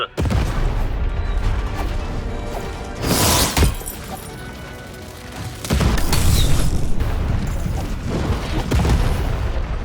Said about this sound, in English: The button to fire the cannon.